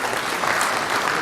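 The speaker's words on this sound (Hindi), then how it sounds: "जोरदार ताली स्वागत।" An audience at a formal ceremony with a High Court judge as chief guest bursts into loud, dense applause of welcome that stays steady and continuous for the whole moment.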